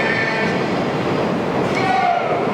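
A subway train rolls into a platform during a film shoot in a subway station, a continuous rumbling roar with faint squeals, with a voice speaking over it.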